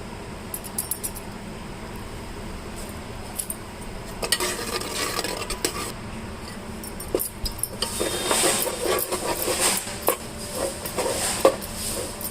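A spoon stirs a sweet syrup mixture with ghee in a pan for Sankranti snacks, giving soft intermittent scraping and light metallic clinks against the vessel, with a faint sizzle in the background and no talking.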